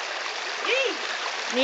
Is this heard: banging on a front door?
no